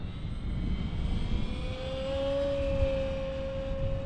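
A Durafly Goblin RC jet flies at full throttle, its high whining engine tone rising and shifting in pitch as it passes over a steady roar, at a moderate distance, with no talking.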